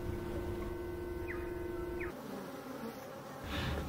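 Bees recorded for an installation project, buzzing as a close, steady drone with sustained tonal hum, then a brief brighter flurry near the end, with no voices.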